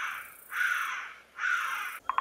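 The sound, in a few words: thick-tailed bush baby call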